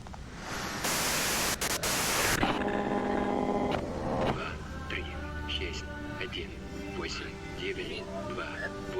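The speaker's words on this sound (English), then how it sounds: "you can do it through the white noise." A burst of harsh radio static and white noise in the detective game Disco Elysium hisses loudly for about two seconds, then gives way to game sounds and a voice talking.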